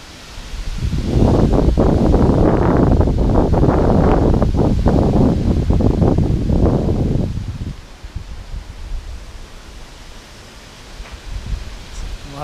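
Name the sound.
strong wind gusts during Hurricane Ian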